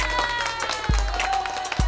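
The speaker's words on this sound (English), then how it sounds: "Let me get you some applause." Short burst of studio applause on a talk show, steady crackling clapping with a faint tonal hum underneath and a couple of low thumps.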